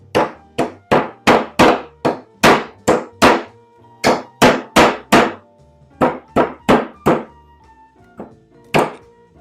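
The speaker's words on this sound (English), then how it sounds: "I'm gonna be really crossing my fingers here and hoping that these hammer out easily" Hammer blows knock curved nails out of old pallet wood with hand tools, a steady run of sharp, close thunks and clangs in quick bursts with brief pauses between them, and no talking.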